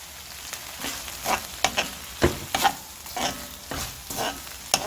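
Shishito peppers, garlic scapes, green onion and sesame being stir-fried in a pan without oil, a steady soft sizzle broken by repeated scraping tosses of a spatula, close and fairly quiet.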